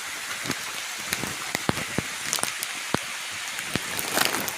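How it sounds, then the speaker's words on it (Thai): Water falls and splashes at a small waterfall in the dry season. The flow gives a steady broadband wash, with sharp drips and splash ticks scattered through it and no talk over it. "เดี๋ยวให้ดูเอน้ำตกตะเพิงที่นะคะ"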